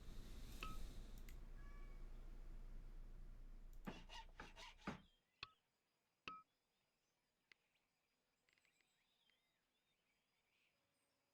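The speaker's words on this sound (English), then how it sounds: "My cat's meowing over on the side." A pet cat meows off to one side of a room, a few short calls in the first seconds over a steady background hum, then only scattered faint clicks and near silence.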